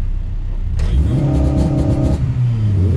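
A remapped Honda Civic Type R EP3 accelerates hard and revs up, a loud, close engine rising in pitch over about two seconds before easing off, with no talk.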